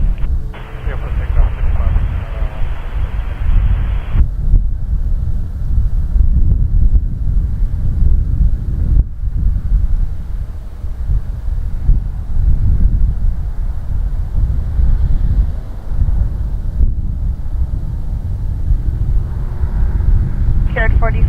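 Air Canada airliner taking off from runway 05 at Toronto Pearson, heard as a steady, loud low rumbling roar that holds throughout, with radio chatter and wind buffeting at the start.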